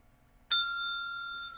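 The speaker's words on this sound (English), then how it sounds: "That is a proper Rant Bell." A single sharp ding of a small, beat-up desk-style bell struck once, ringing out with a clear sustained tone that slowly fades in a quiet room.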